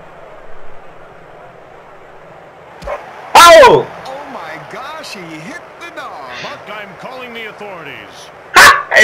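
A dog in the Triple Play 2001 baseball video game yelps and whimpers in a short run of high, bending cries, with loud thumps before and after it.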